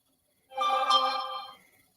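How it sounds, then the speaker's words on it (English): A phone notification tone chimes once, marking the half hour: a clear, bright electronic chime about a second long that rings out and fades, alone with no talk around it. "that noise the phone just made, it means it's a half hour has gone by"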